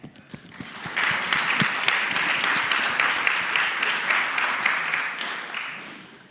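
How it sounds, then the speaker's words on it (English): Applause for visitors in the Virginia Senate chamber, with a few scattered claps building quickly into a full, sustained round from the floor and gallery that fades slightly toward the end. "Let's give them an applause for being with us today."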